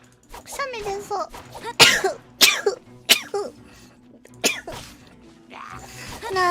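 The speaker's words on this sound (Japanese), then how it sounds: "くしゃみ出そう。" A female virtual streamer playing Genshin Impact lets out a quick series of four sharp sneezes close to the microphone, each a sudden loud burst, with a few brief vocal sounds between them.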